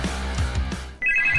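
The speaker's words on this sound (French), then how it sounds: "Je vais appeler l'autre téléphone." A telephone rings in a Siren Head horror video game, a short electronic ringtone burst starting abruptly after a moment of low background sound, close and clear.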